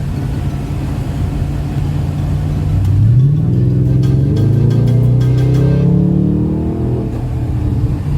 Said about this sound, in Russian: машина больше шумит, чем едет